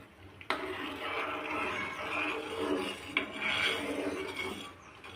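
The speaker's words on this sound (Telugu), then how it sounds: "ఇలా కలుపుతూనే ఉండాలి చిక్కబడేంత వరకు" Milk mixed with custard powder is stirred in a pot, a close, continuous scraping swirl along the pot bottom with a couple of sharper knocks, steady for about five seconds without talk.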